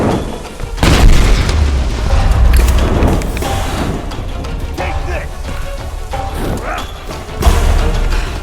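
Bomb blast in the Tomb Raider video game inside the Solarii Fortress caverns, a heavy boom followed by rumbling debris and another deep impact, loud and close.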